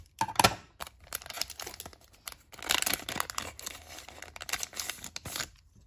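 A Panini Illusions basketball card pack is torn open with crinkly, papery foil rips and crumpling, delivered in several bursts close to the ear with short quiet gaps between.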